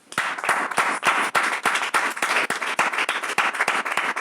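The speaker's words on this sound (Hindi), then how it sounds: "पवित्र आत्मा के लिए ताली बजाइएगा।" A church congregation claps together, sharp individual claps forming an irregular rhythmic patter, close and moderately loud, with no speech over it.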